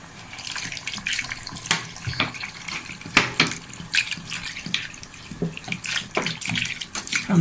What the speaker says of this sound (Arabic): هبدأ احطها على النار، وبحط لها حبة مية